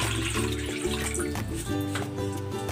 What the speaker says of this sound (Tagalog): Ilalagay ako ng tubig dito sa kawali.